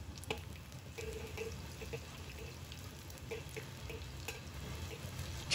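Garlic slices stir-fried in hot oil in a wok, a steady low sizzle with scraping and stirring clicks scattered throughout, fairly quiet and close, no voices.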